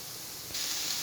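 Mint leaves frying in a pan give a soft, steady hiss that grows noticeably louder and brighter halfway through, with no voices.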